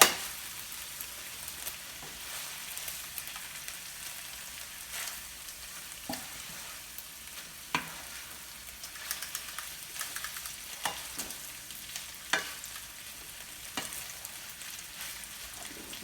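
Edamame pasta tossed in a frying pan, a quiet steady sizzle with irregular soft clatters and scrapes as the pasta is stirred and flipped, no talking.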